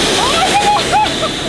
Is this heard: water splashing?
yes